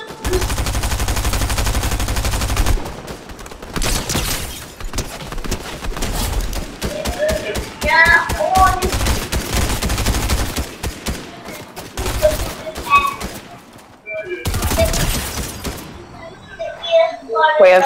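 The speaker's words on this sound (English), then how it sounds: "Someone's firing." Video game gunfire from a tactical shooter crackles in rapid automatic bursts and scattered single shots. The shots run under a player's voice talking and are fairly loud throughout.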